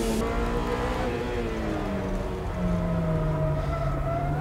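A Mazda BM Roadster racing on a small mini circuit, its engine note whining and shifting in pitch as it pulls away, steady and fairly loud with no voices.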